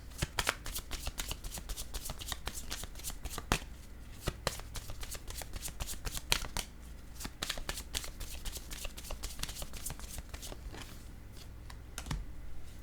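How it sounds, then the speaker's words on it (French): Tarot cards being shuffled by hand: a dense, steady run of crisp riffling flicks and soft slaps, close and continuous throughout with no talking. "Je vais mélanger les cartes."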